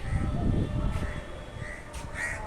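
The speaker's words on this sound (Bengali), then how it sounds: "কাক" A crow cawing outdoors on a rainy morning, two or three short harsh calls spaced about a second apart, moderately distant over a low rumbling background.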